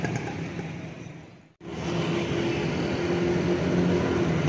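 Road traffic passes near Sheranwala Bagh in Gujranwala, by the Sheikhupura turn, as a steady roar of car engines with one brief dip before the flow swells again.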